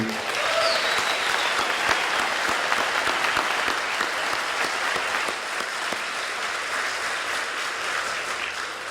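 Sustained applause for the inductees at an athletic Hall of Fame induction ceremony in 2013: a dense, even wash of clapping from a large audience in a hall, lasting throughout at a steady level.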